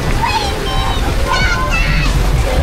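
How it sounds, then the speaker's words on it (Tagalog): Strong waves surge and slosh continuously on Boracay beach, loud and close, with people talking over the water. "Ang lakas ng alon."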